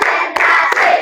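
Schoolchildren in a classroom clap their hands together in quick, loud bursts, with a couple of sharp claps standing out over a dense, continuous patter.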